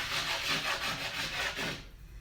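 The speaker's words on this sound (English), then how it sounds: "I just take my chalk and rub it over, and it makes sometimes a horrible sound" Chalk rubbed firmly across a new chalkboard to season its surface: close, rhythmic rasping strokes repeat for nearly two seconds, then stop abruptly.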